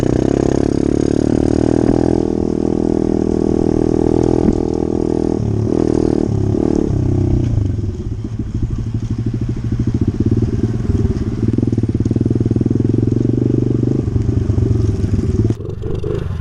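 A dirt bike engine runs loud and close while being ridden slowly on a trail, a steady mid-pitched chugging that dips and clatters briefly before picking back up.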